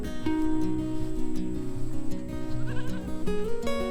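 Goats in a pasture bleat up close, in repeated wavering calls that overlap one another over about four seconds.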